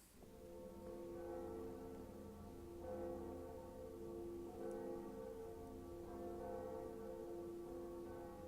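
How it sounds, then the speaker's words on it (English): The second Bell of Awakening in Dark Souls tolls after a lever is pulled, its sustained metallic harmonics ringing and decaying steadily, with fresh strikes swelling near 3, 4.7 and 6 seconds, heard alone. "And we ring the second bell."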